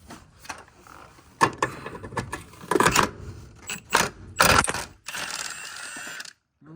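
Ratchet and metal tool clicks while a bolt is loosened in the engine bay of a Honda Civic being stripped for engine removal, a run of short, close mechanical bursts and rattles with no talk.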